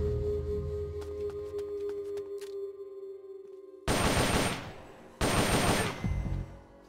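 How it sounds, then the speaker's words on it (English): Two loud bursts of rapid automatic gunfire, each lasting over a second, in the video game Metal Gear Solid: Peace Walker HD, following a quieter stretch of low hum and faint clicks. "You hear that? Gunshots! We're being shot at."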